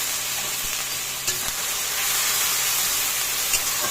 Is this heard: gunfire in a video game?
no